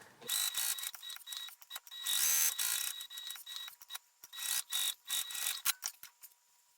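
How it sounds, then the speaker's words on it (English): Sewing machine stitching a seam on a fabric zipper pouch: close, rapid mechanical whirring in bursts of varied length, separated by brief pauses and clicks. "start sewing with the full seam allowance and go all the way to the other side"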